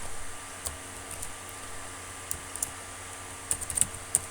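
Python code is typed on a computer keyboard in a quiet room, with sparse, soft key clicks early on that give way to a quick cluster of sharper keystrokes near the end.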